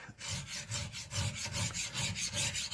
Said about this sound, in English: rub the file backwards and forwards, and don't try and concentrate.